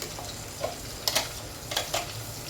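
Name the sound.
ginger garlic paste frying with sautéed onions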